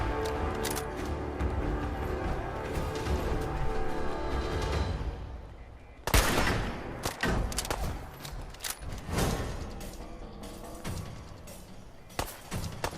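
Gunfire in the video game Fallout 4, a run of sharp, loud bursts and thuds cutting through a dense wash of game sound, clustered mostly in the second half.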